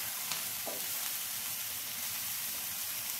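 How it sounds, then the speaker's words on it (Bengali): Chopped ridge gourd fries in a pan on a high gas flame for a vegetarian dish, giving a steady, soft, even hiss heard close up without any voices. "হাই ফ্লেমে এটাকে ভেজে নিতে হবে।"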